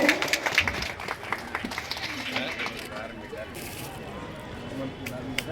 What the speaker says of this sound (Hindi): एक बार जोरदार तालियों के साथ उनका स्वागत करें।